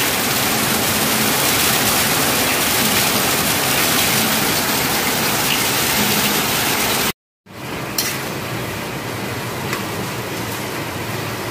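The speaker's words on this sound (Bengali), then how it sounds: "খুব জোর বৃষ্টি পড়ছে" Heavy rain pours down steadily in a dense, loud, continuous rush during a monsoon downpour, with a brief dropout before the roar resumes slightly softer.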